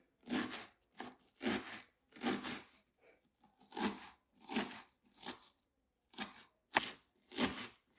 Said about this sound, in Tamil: நல்ல சிவப்பு வெங்காயம் ரெண்டு எடுத்து நல்லா சின்ன சின்னதாக வெட்டுறோம்